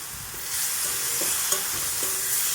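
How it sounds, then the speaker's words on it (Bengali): A spice paste with green chillies stir-fried in a pan for an egg curry gives a loud, close, continuous sizzle, with a few soft spatula scrapes punctuating the hiss. "দেখো বন্ধুরা মশলাটা প্রায় কষানো হয়ে এসেছে"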